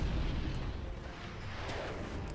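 A rocket launcher blast in Sekiro rolls out as a heavy, loud rumbling boom, sustained and dense across the whole moment with no voices over it.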